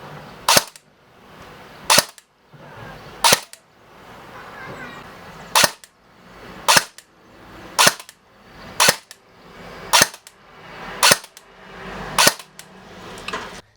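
A Force Core 109 airsoft replica fires ten sharp, loud shots over a chronograph, each crack evenly spaced about a second apart, with a faint mechanical whir between them.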